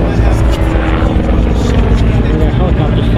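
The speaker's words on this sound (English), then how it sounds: "We got helicopters flying in through here too." Helicopters flying overhead at a Cars and Coffee gathering at a Porsche dealership in Santa Clarita give a steady, loud rotor drone and thrum that fills the whole stretch, with voices murmuring underneath.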